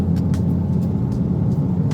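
Interior road rumble and engine hum come from a Toyota Corolla Hatchback XSE with a manual gearbox cruising steadily, a low continuous drone with faint ticks and no talking.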